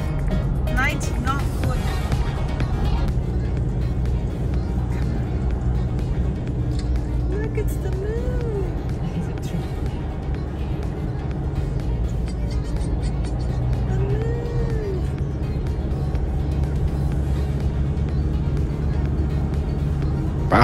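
A car drives along a winding mountain road in Thailand, heard from inside as a steady low engine and road rumble with people talking over it.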